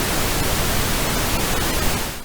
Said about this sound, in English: so I'm going to use some pink noise